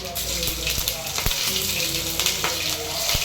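Mustard seeds, green and dried chillies and curry leaves crackle and sizzle in hot oil for a yellow pumpkin kara kulambu, a loud, dense, continuous frying hiss, close up with scattered sharp pops.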